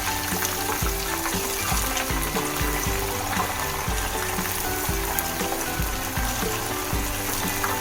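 Korean fried chicken cooking in hot sesame-containing oil, a loud, continuous close-up sizzle and bubbling that never lets up, with no voices.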